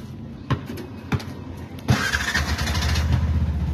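A small Bajaj motor tricycle engine in Calamba, Laguna cranks with a few sharp clicks and sputters, then catches and settles into a steady, rattly idle, close by.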